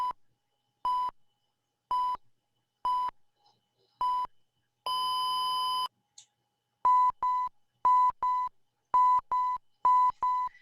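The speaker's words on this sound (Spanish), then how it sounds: "los voy a dejar que escuchen cómo suena la alarma en el equipo transmisor" A DSC distress alarm on a VHF marine radio transmitter sounds as loud, evenly spaced electronic beeps, then one long sustained tone, followed by a quicker run of sharp beeps.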